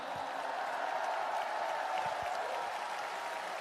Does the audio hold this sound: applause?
yes